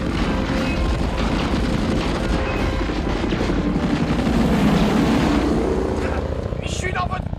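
Helicopter in the action film Die Hard, a loud continuous rotor roar and rumble mixed with dramatic film sound, with voices talking over it.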